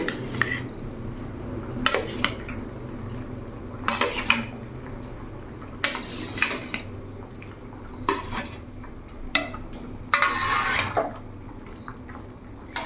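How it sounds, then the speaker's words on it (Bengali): A pot lid comes off and pieces of fried rohu fish go into a thin, simmering rohu curry with lentil dumplings (bori). Distinct metal clanks and scrapes of a spoon on the pot repeat every second or two, with a soft liquid bubble underneath. "আমি এবার ঢাকাটা খুলে দেখবো। এবার ভেজে রাখা মাছগুলো আমি দিয়ে দেবো।"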